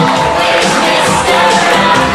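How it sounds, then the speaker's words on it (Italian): A fashion show audience claps and cheers for a model on the runway, a loud, dense crowd roar that holds steady throughout. "ecco l'applauso, grazie!"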